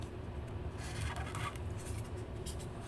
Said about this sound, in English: This stick going into styrofoam